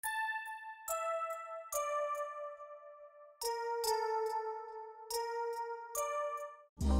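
Little bells and piano notes layered over a trap beat melody, each struck chord ringing out and decaying in a steady repeating pattern, clear and alone with no voices.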